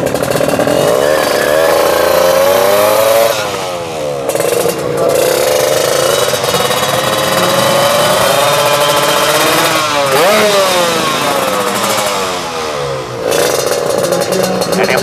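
Motorcycle engines rev hard at an Indonesian street race between Teknotuner and KMS, loud and continuous with rising and falling pitch sweeps as bikes accelerate, under a noisy crowd.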